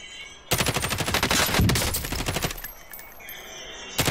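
Rapid automatic gunfire in the video game Warzone during a trios match, a dense loud burst of shots lasting about two seconds, then trailing off into quieter game ambience with another shot near the end.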